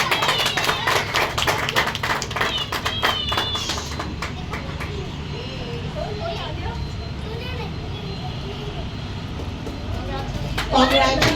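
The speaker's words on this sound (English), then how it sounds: "Huge round of applause" A crowd of children and adults claps at a school graduation day ceremony in a dense burst that lasts a few seconds. Then the clapping fades under voices and chatter in the room.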